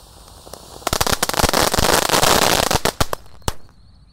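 A fountain firework shoots up and erupts into a loud, dense crackling spray of rapid pops that lasts about two seconds, then thins to a few scattered bangs before it dies out.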